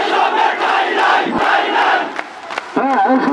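A large protest crowd chants a slogan, many voices calling out together in loud, dense, repeated rounds, with a few shouts rising over the mass of sound.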